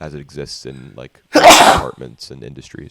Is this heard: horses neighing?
no